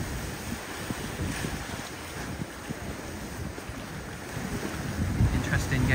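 Steady wind and water noise from a dive boat at sea off Anilao, Philippines, with waves washing and a low engine-like rumble underneath.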